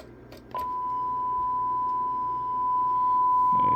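A single steady electronic talkback beep from a Stryker SR-955 HPC+ radio sounds continuously for several seconds after a brief click, loud and constant against a quiet background.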